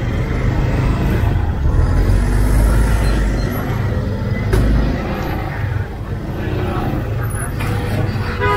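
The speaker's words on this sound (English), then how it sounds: "I don't know why there's a lot of traffic today" Busy street traffic in Surulere, Lagos, Nigeria: a loud, steady rumble of cars, buses and trucks nearby, with engines idling and moving, brief air-brake hisses and a dense urban wash with no pauses.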